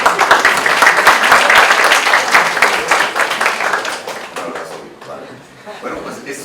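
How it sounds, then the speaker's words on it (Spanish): Audience applause for a speaker at a criminal-procedure lecture, loud dense clapping that gradually thins and fades out toward the end. "Un abrazo. Un aplauso."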